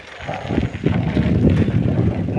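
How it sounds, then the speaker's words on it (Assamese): Wind buffets the microphone during a bicycle ride along a river, a steady low rumble with gusty surges that stays loud and close throughout. "মজা বতাহ দি আছে"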